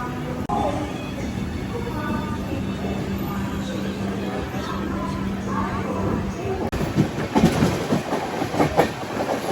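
A Kovai Express passenger train hauled by a Lalaguda-based locomotive, running from Coimbatore to MGR Chennai Central, rumbles steadily with a low engine drone and rhythmic clickety-clack that grows louder and busier toward the end, with faint voices in the background.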